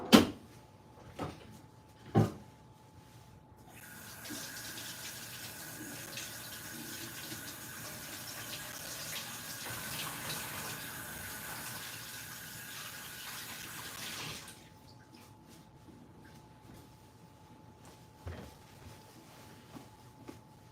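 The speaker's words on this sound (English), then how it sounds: "I'm going to wash my hands" A kitchen tap runs steadily for about ten seconds while hands are washed, a broadband hiss of water between a few cupboard clicks and knocks at the start and end.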